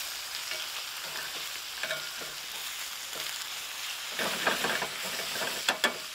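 A steak sizzles steadily in a hot pan with a soft hiss, then louder crackling and a few sharp pops near the end; no voices are heard.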